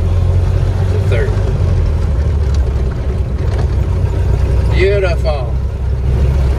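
A 1931 Ford Model A shifts from second to third gear, its steady engine drone running close and loud throughout with a brief change in pitch partway through.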